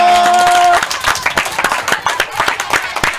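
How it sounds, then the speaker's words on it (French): Children get a round of applause at a Christmas TV show: brisk, fairly close clapping from a small group starts right after a short electronic tone and carries on steadily to the end. "On applaudit très fort les enfants."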